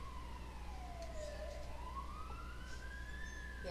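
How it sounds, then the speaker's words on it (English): Fire truck siren wailing near a hospital ambulance bay, a continuous rising and falling tone heard from outside over steady low traffic rumble. "Oh no, this is a fire truck."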